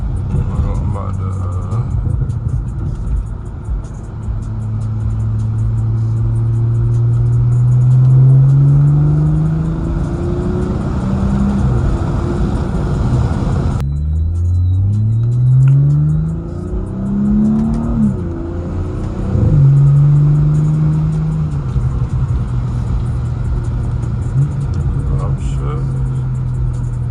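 BMW 440i Gran Coupe xDrive engine accelerating through city streets at night, rising through several gear changes with a deep rumble from inside the cabin, under occasional talk.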